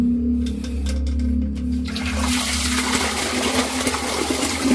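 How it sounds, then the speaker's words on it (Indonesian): Water rushing through the central drain pipe of a RAS tilapia fish pond during flushing, a steady loud gushing with a low hum underneath, no talk. "Oke, kita lanjut di flush lagi ya saluran dari central drain ini."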